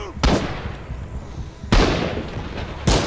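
Knee mortar explosions in the World War II shooter Rising Storm, three sharp loud blasts spaced about a second and a half apart, each with a rumbling tail.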